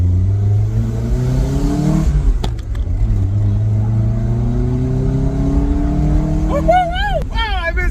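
A 1994 Toyota MR2 engine revs and accelerates loudly up close, pitch rising in steady climbs with a brief break near the middle, then higher whining notes toward the end.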